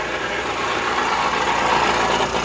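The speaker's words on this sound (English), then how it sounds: "Oh, I forgot about the noisy air compressor." Noisy air compressor running in a garage during spark plug removal on a 5.4L Ford F150, a loud, continuous droning motor hum with a low throb, close by and without voices.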